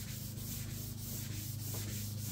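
A Scotch-Brite pad scuffs primed paint on a golf cart body. The steady, close abrasive rubbing comes in quick regular back-and-forth strokes with no talking.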